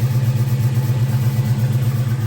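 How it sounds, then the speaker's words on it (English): A Ford Mustang SVT Cobra idles with an exhaust leak, giving a steady, close, pulsing low rumble with a rhythmic ticking throb running unbroken throughout. "it's because that exhaust leak. You guys can go ahead and hear it right about here."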